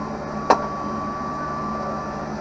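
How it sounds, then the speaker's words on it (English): A steady, loud blowing whoosh from a hair dryer runs throughout, with a single sharp click near the start. "This is just an expensive hair dryer"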